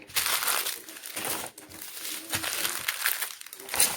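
Plastic bags of diamond painting drills crinkle and rustle as they are handled and packed into an envelope, a busy close crumpling sound with irregular bursts.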